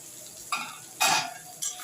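Tomato, green chilies and spices fry in a pan for dhaba-style chicken, with three short bursts of sizzling and stirring scrapes over a quiet background.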